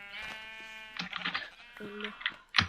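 Sheep bleating in the Minecraft video game, several short synthetic bleats spread across the clip at moderate loudness, with no speech over them.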